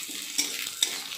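Chopped onion frying in hot mustard oil for a bottle gourd leaf paste, giving a steady broadband sizzle with two brief louder stirring scrapes, close and alone without talk.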